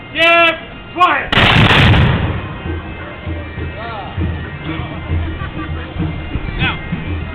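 A volley of musket fire from a line of musketeers in a drill demonstration bursts out loudly after shouted commands, followed by a long rumbling echo and the murmur of spectators.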